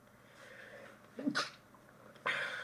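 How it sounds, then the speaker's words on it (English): A single sharp sneeze rises out of quiet room tone midway through, close and fairly loud, followed a moment later by a brief sniff or breath. "That was a sneeze."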